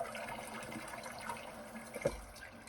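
Faint running water from a tap, a soft steady splash with a small clunk near the end.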